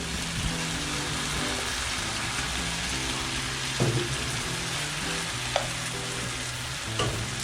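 Squid sizzles steadily in a hot pan for adobong pusit, a continuous crackling hiss with a few louder spits and pops, close and alone with no talk.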